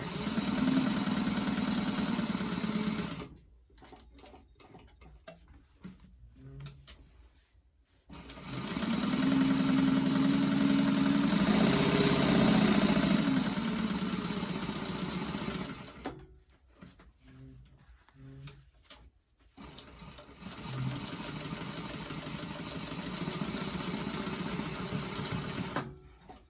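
A sewing machine basting two fabric pieces together for a doctor bag, running in long steady whirring bursts separated by quieter pauses with a few clicks and handling sounds, close by.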